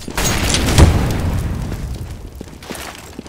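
A grenade goes off in Counter-Strike on the Cache map with one loud, deep boom and a rumbling tail that fades over a few seconds.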